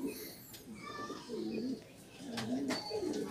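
Pigeons coo softly in a loft housing eight racing birds, low rolling calls repeating several times with faint chirps and tweets mixed in, steady and close.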